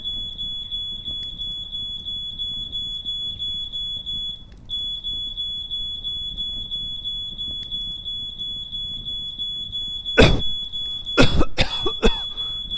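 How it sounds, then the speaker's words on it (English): A smoke detector sounds a steady run of rapid, piercing high beeps indoors over a living room filled with torch smoke, continuing nearly throughout; near the end several harsh coughs and throat clearing break in loudly. "I just set off the smoke detector."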